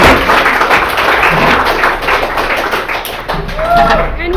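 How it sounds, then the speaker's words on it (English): Sustained applause and cheering from a live audience at the Western States event, a dense, loud wash of clapping lasting several seconds without pause. "let's have our live audience give Francois a round of applause."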